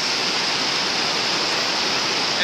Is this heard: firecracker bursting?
no